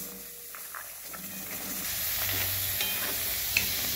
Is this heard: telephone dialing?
no